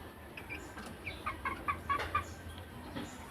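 Several short clucks from chickens, scattered and fairly close, rising in a loose burst in the middle over a quiet outdoor background.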